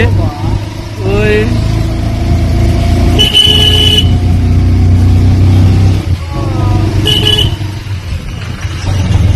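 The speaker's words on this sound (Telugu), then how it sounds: "ఇన్ని బస్సులా ఇంతపై ట్రాఫిక్ అయిపోయింది." Buses and cars stuck in a heavy traffic jam on the Srisailam ghat road: a steady engine rumble with two short horn blasts, while people talk over the noise.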